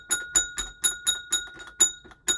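A small bell rings in a quick, regular series of about ten bright, close strikes, each with a short ringing decay, with no speech over it.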